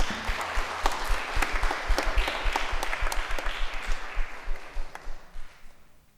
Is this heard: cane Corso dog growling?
no